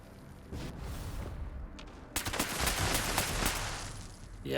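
Gunfire in Fallout 76 aimed at a Radscorpion: a rapid burst of shots begins partway through, fairly quiet overall, after a stretch of low game ambience.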